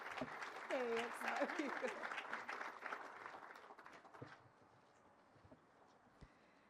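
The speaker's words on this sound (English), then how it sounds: "So a big round of applause for Keiko Raken." Audience applause at the announcement ceremony for the 107th Rose Queen, clapping that peaks early under an announcer's voice and then thins out and fades to scattered claps.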